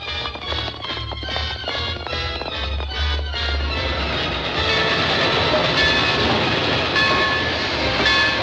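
A limited train runs toward a mile-long tunnel, its wheels clacking in a quick, steady rhythm before giving way to a loud, continuous rushing roar. No voices are heard.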